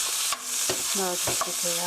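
Ground pork stir-frying in a hot pan for mapo tofu, a steady close sizzle broken by scraping stirs, with a brief spoken remark over it.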